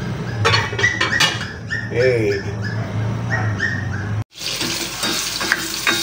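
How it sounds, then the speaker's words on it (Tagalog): Carrots and saba bananas frying in a pan for pork pochero, a crackling sizzle with stirring clatter, while a dog whimpers and barks and a voice talks in between. "medyo pinafried natin yung ating carrots at yung ating saba"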